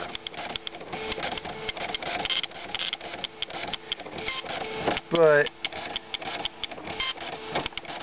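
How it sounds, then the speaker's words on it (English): A 9-pin dot matrix printer printing, a rapid buzzing, rattling print-head chatter running steadily throughout with a brief mechanical whir partway through, while someone talks over it. "This is only a 9-pin dot matrix, so the last one was a 24-pin, so this is a lower quality printer."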